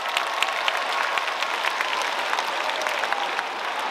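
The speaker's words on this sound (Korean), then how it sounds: "멋진 무대를 선보여주신 루시트 그리고 춤사랑 무용단에게 다시 한번 큰 박수 부탁드리겠습니다." A festival audience at the Wonju Dancing Carnival claps after a dance troupe's encore performance, dense and sustained applause from a large crowd, loud and even throughout.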